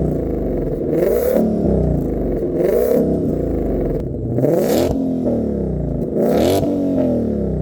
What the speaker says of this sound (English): You also get these massive quad tip active exhausts, and take a listen to how good this sounds.